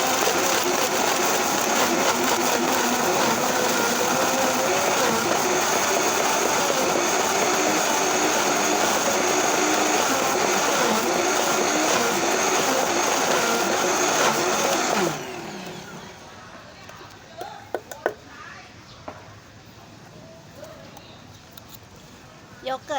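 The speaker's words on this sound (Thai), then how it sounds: "ปรับเครื่องปั่นไปที่เบอร์แรงสุด ปั่นให้ละเอียดเลย" An electric blender runs on its highest speed, blending a strawberry yogurt smoothie with a loud, steady roar for about fifteen seconds before it cuts off, leaving faint clatter afterward.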